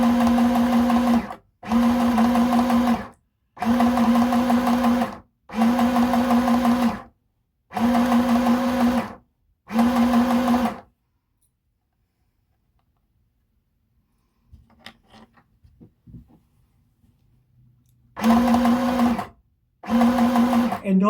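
A Singer sewing machine stitches red cotton fabric for a skirt in repeated loud motor bursts of about a second or two each, separated by short pauses, with a longer quiet gap holding faint handling sounds before stitching resumes.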